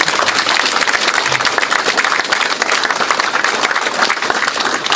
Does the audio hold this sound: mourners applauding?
yes